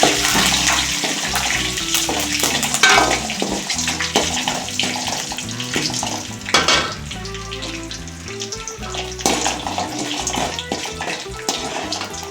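Dried chillies, chana dal and curry leaves frying in hot oil, a loud, steady crackling sizzle with sharp spattering pops throughout.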